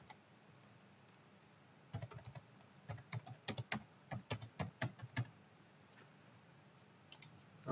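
Quiet keystrokes on a computer keyboard while R code is typed come in a few scattered taps, then a quick run of clicks, then a couple more near the end.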